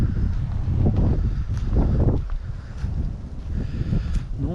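Light wind blows steadily over a clifftop at a scenic residence site, a continuous low rumbling buffet that sounds like wind on the microphone, with no talking.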